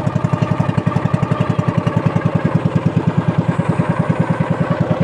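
A small boat's engine runs steadily near Subic Beach, a loud, close, rapid thumping putter with an even rhythm that holds throughout, no voices.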